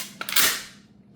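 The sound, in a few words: racking the slide of a pump action shotgun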